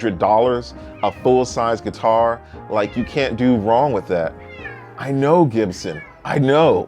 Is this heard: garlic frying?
no